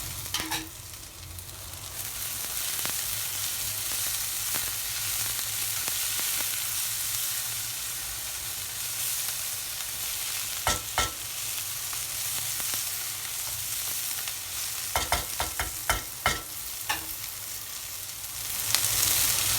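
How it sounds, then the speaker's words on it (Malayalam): Chopped coriander and mint leaves stirred in a frying pan for a paneer chapathi roll, a steady broadband sizzle with scattered utensil scrapes and clicks throughout, close and fairly loud with no talking. "3 ടേബിൾ സ്പൂൺ കൊത്തിയരിഞ്ഞിരിക്കുന്ന മല്ലിയിലയും 1 ടേബിൾ സ്പൂൺ ചോപ്പ് ചെയ്ത പുതിനയിലയും ഇതും കൂടി ചേർത്തിട്ട് ഒന്ന് വാടുന്ന വരെ ഇളക്കി കൊടുക്കാം"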